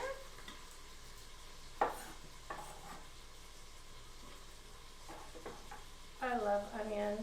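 Chopped onion is scooped and tossed into an Instant Pot, with a few soft knocks and scrapes and light stirring over a quiet background, ending in a brief louder clatter.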